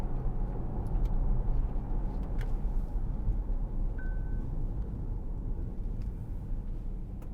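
Audi Q7 3.0 TDI S line quattro driven around a bend, a low steady engine and road drone from inside the cabin, swelling slightly early on before settling, with no talking.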